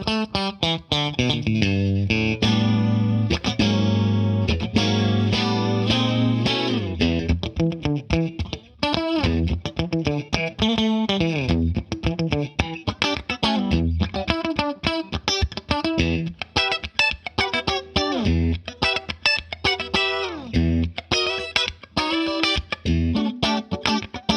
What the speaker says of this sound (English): I quite like an icy sounding modern chorus as well